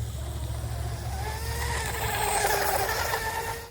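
A radio-controlled model boat's engine runs hard at about three-quarter throttle, a steady loud buzzing whine that rises slightly in pitch and stays up close, with no talking.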